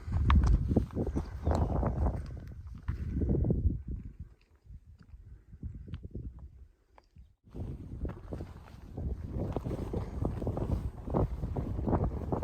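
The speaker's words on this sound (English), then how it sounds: "Pretty windy." Gusty wind buffets the microphone in loud, rumbling bursts at Rhododendron Gap in Grayson Highlands State Park, easing briefly in the middle before picking up strongly again.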